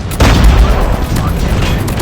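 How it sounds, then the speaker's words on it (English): Airstrike explosions in a first-person shooter game: a heavy blast lands at about a quarter second, then a dense, loud rumble of booms and crackling detonations rolls on without a break. "Friendly airstrike incoming."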